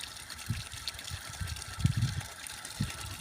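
A solar-powered motor pump lifting canal water gives a faint, steady wash of flowing water with soft, irregular low thumps and rumbles, heard without speech.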